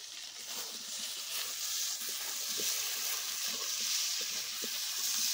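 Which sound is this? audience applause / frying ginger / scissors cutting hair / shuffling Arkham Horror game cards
frying ginger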